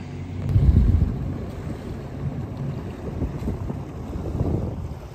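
A boat motors across open water toward an island camping site in Washington state, its steady engine drone loud and close and mixed with wind buffeting the microphone.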